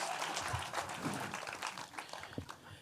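Crowd clapping fills a panel room at a DC Comics anniversary event, a broad, somewhat distant patter of hands with a few sharper individual claps standing out before it begins to thin.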